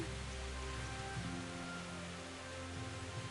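Steady rain falls in a video game, a soft, even hiss of drops on surfaces with a faint low tone beneath, continuous and quiet with no voices.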